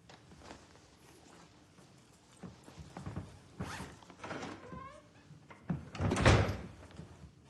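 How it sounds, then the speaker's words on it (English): A door being shut indoors: shuffling and creaking handling sounds build up, then a louder thud of the door closing near the end, with no talking. "You can shut the door."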